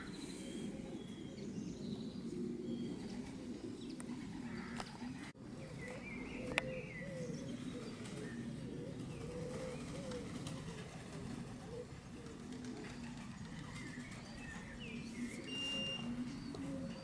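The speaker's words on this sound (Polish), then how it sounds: "240 gołębi." Racing pigeons coo continuously inside a loft crowded with about 240 birds during a first competition race, a dense low murmuring chorus that runs steadily throughout with a few faint higher chirps and one brief click.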